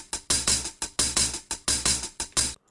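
Unprocessed open hi-hat loop in a trap-style beat, bright crisp hits pulsing in a steady, evenly spaced rhythm with full body down low, playing alone and cutting off abruptly at the end.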